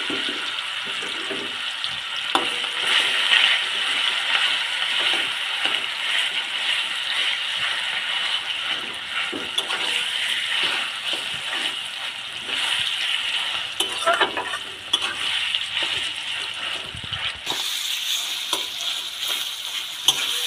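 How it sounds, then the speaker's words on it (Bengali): Seasoned olives for a Bengali jolpai achar sizzling steadily in hot oil while being stirred, a continuous close hiss with occasional scraping and clinks of the utensil, no talking. "এবার আমি মেখে রাখা জলপাইটা তেলের মধ্যে দিয়ে দিচ্ছি।"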